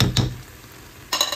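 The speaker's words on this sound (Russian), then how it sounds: "Очень важно сковородку не так царапать." Metal spoon scraping and clinking in a small frying pan while mushroom caviar is stirred, with two short scrapes at the start and a louder burst of scraping near the end, close by and without talk.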